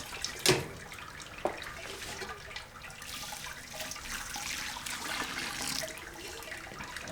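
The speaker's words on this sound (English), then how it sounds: "our water flow into our pitcher here is slowing down quite a bit" Steady trickling and splashing water drains into a pitcher during beer-brewing sparging, running continuously at close range, with a couple of sharp clinks near the start and no talking.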